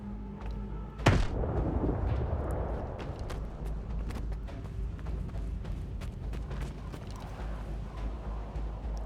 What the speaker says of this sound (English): Oh, that's a grenade on our position.